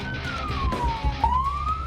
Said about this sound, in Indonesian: Petugas damkar juga sudah membunyikan sirine dan klakson